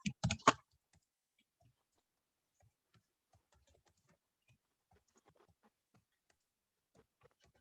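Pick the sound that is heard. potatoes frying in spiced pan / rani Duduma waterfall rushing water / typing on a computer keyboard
typing on a computer keyboard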